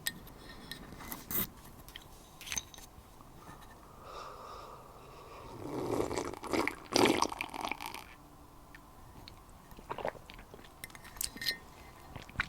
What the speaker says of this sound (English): Okay, I'm doing a really slurpy one.